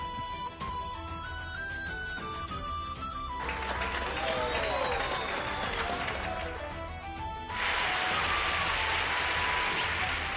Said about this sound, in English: An applause when we fade out.